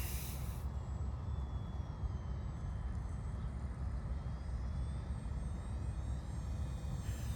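A small E-flite Micro Scrappy 800mm RC bush plane drones steadily under its electric motor, a continuous buzzing whine with broad hiss that holds at an even level throughout.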